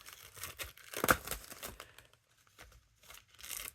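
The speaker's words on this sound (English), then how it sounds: "it doesn't like to cut easy with scissors" Scissors snip through Press and Seal plastic wrap with crinkly, tearing bursts, a sharp cut near the middle followed by softer intermittent rustles and crumpling of the clingy sheet, close and fairly quiet.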